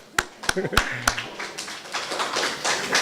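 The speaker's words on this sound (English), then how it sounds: "Let's give him a round of applause." A few sharp, separate claps open, then an audience at a lecture on Caribbean democracy breaks into steady, moderately loud applause mixed with crowd murmur.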